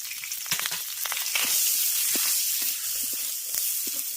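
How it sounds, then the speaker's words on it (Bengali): Peas and chopped carrots frying in a pan, with a steady close sizzle and a few intermittent stirring clinks and scrapes, no talking. "মটরশুঁটি আর গাজরটাকে আগে হালকা করে ভেজে নিলাম"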